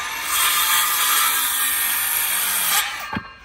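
A saw cuts along a marked line in wood, producing a loud, close, continuous buzzing rasp that stops abruptly near the end, followed by a brief clunk.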